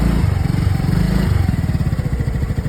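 A motorcycle engine runs steadily up close while a beginner learns to ride and work the throttle, a low chugging idle that turns into a faster, pulsing rhythm partway through, with no talk over it.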